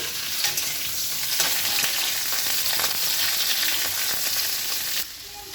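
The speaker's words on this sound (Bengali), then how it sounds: "এখন আমি ফুলকপিটা ভেজে নিচ্ছি" Cauliflower frying in a pan of hot oil for a Bengali cauliflower, potato and pointed gourd dish, a dense continuous sizzle and spatter up close with stirring throughout, cutting off abruptly near the end.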